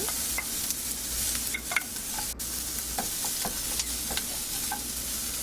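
Onions fry in a pan for shakshuka, holding a constant close sizzle with light clicks and scrapes of stirring scattered throughout, and nobody speaks.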